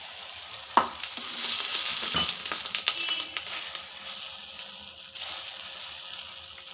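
A hot tempering poured onto okra chutney hits with a sharp sizzle and crackle that gradually settles into a softer, steady fizz.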